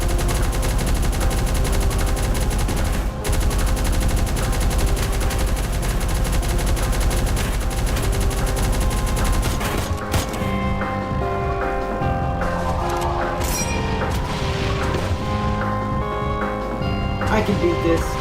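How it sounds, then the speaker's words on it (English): Rapid gunfire from new guns rattles nonstop in a video game, dense automatic bursts with a steady rhythm under game music, easing into sparser shots near the end while a voice speaks over it. "now I should be using my new guns"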